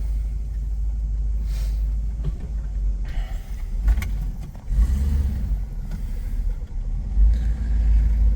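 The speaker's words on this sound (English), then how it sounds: "1969 Chevelle. She's a beaut. All right, we're gonna go ahead and start her up." A 1969 Chevrolet Chevelle barn-find survivor idles after starting, its engine a steady, loud low rumble with a few brief swells in revs, heard close and without talk.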